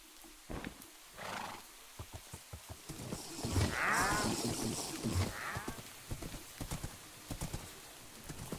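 A Minecraft horse neighs in a rising, wavering whinny amid a steady patter of clip-clopping hooves, with a second shorter whinny following; the sounds are close and fairly loud.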